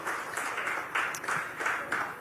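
A crowd at a Mahakumbh 2025 gathering applauds to welcome a Juna Akhara mahamandaleshwar onto the stage, the clapping coming in uneven swells of many hands, fairly soft and a little distant.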